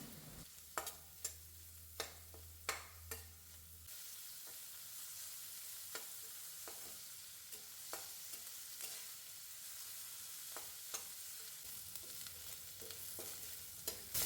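Chopped onions and a handful of garlic cloves fry in a pan for rice, giving a soft, steady sizzle with sharp spoon taps and scrapes against the pan spaced through it, plus a low hum at the start.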